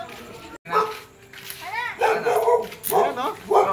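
Dog barks at a house during a candy giveaway to children, a few short barks mixed in with nearby talking and street noise.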